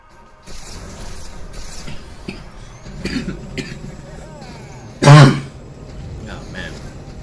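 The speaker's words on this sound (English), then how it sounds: "Got this cough." A single sharp, close cough bursts out loud over faint background game sounds and low murmuring, with a few softer throat noises around it.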